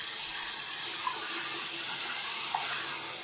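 Warm water runs steadily from a bathroom tap into a sink, a continuous close hiss and splash with a few small drip accents and no talking.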